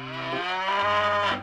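A cow moos in one sustained, loud, close call with a pitch shift partway through, heard alone with no talk over it.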